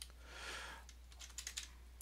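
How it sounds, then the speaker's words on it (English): Quick, light clicks of typing on a computer keyboard into a Linux desktop launcher search box, faint and close, with a soft rustle at first and then a short run of separate keystrokes near the end. "You can start just typing"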